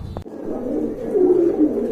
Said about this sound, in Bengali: এখানে কিন্তু আর এক জোড়া কবুতর রয়েছে এটা হচ্ছে সুন্দরী গিরিবাস কবুতর